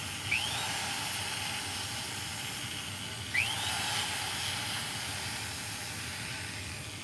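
Rotary wheel on a small motor tool softening the edges of wire strips for chain links, a steady faint whirring hiss with two brief rising whines as the wire touches the wheel.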